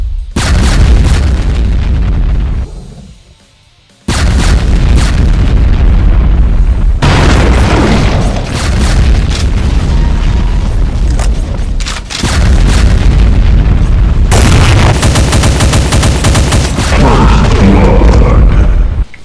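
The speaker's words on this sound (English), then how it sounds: "the BFG 10K shots" BFG 10K weapon shots in a Doom mod, heard as heavy booming blasts and explosions in long loud bursts, broken by one short quiet gap.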